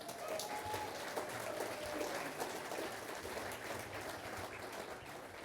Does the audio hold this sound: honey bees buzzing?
no